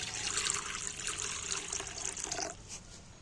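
Water runs steadily into a cooking pan while an egg and soybean curry is made, a continuous close trickling pour that stops abruptly near the end, leaving a faint quiet tail.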